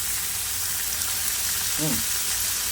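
Costco applewood smoked bacon sizzling on a Blackstone griddle, a steady, even crackle of frying fat filling the whole clip with a brief low clink partway through.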